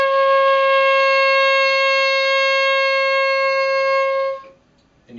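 A saxophone holds one steady high D with the octave key pressed. The tone is pure, close and sustained for about four seconds, then stops.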